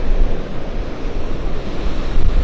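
Ocean waves washing onto Vanderbilt Beach in Naples, a steady loud surf roar with wind buffeting the microphone throughout, no voices.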